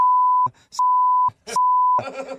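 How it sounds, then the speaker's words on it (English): Three loud, steady censor beeps cover a spoken name on a radio show, each lasting about half a second, separated by brief clipped fragments of speech, ending in muffled talk. "You didn't understand any of that because that was all beeped."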